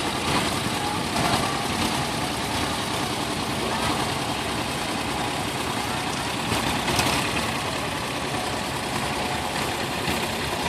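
A John Deere 620 tractor running on propane rumbles along in a parade, its engine a loud, steady, low chugging drone that continues without letup.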